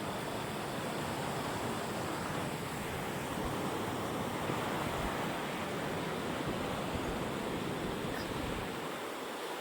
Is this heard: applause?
no